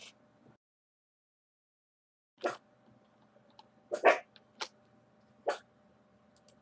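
Little dogs bark in the distance, a handful of short, sharp barks spaced a second or so apart against an otherwise quiet background.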